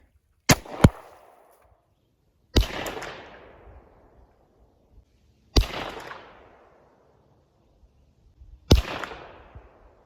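Four sharp gunshots from a Hi-Point .45 carbine fired outdoors, spaced a few seconds apart, each a loud crack followed by a fading echo, with near silence between shots.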